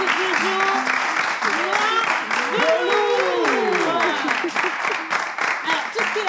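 A studio audience applauds a guest artist on a French talk show, steady sustained clapping throughout, with people talking and calling out over it.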